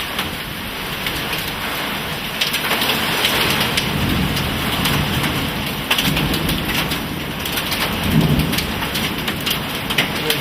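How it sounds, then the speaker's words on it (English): Hail hammers down during a violent downburst storm in Middle Village, New York, a dense, loud, continuous roar of impacts with sharper cracks scattered throughout and a rumble of thunder underneath. "Big hail!"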